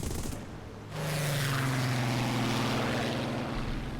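A Reggiane Re-2001 fighter's piston engine in War Thunder, throttled back and overheating, drones steadily with a low propeller hum after a brief quieter start.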